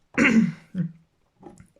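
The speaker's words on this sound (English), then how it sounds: "I'm constantly clearing my throat" A person clears their throat close up: one long rough rasp, then two shorter, quieter follow-up clears.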